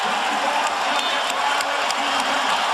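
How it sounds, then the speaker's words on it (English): A basketball arena crowd at an NBA game roars in a steady, loud, unbroken wash of cheering that stays at the same level throughout. "And here comes the crowd."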